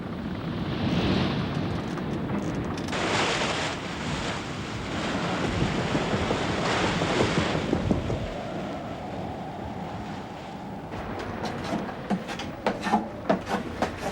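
Strong wind blows hard at sea aboard a sailing ship carrying loose grain, a steady roaring gust with surging waves and creaking, gradually easing with sharper knocks toward the end.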